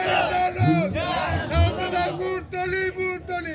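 A crowd at an Islamic sermon gathering shouts a takbir chant in loud, rhythmic unison, repeated call-and-response bursts with short gaps between them.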